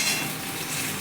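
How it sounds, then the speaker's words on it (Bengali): Eggplant dropped into a pan of hot oil with aloo already cooking, giving a brief, dense sizzle and crackle that stays steady through the short moment. "এবার বেগুনটা দিয়ে দিচ্ছি"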